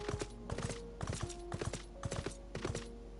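Horse hooves clip-clopping in Final Fantasy XIV, a steady rhythmic run of close, clear hoofbeats in pairs over game ambience with faint musical tones, no talk.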